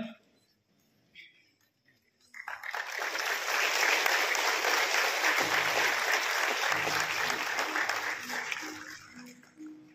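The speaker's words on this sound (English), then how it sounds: "Let's give them a round of applause." An audience at a university graduation convocation breaks into sustained applause after a quiet start, many hands clapping steadily for several seconds before fading out, with some voices underneath.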